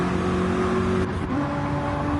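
A Corvette race car engine drones steadily in a racing video game endurance race, a continuous mid-loud tone that holds for about two seconds with a slight shift in pitch partway through.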